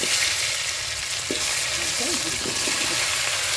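Potatoes hit hot oil already tempered with dried red chili, whole cumin and bay leaf, sizzling and frying loudly and steadily throughout, with some stirring.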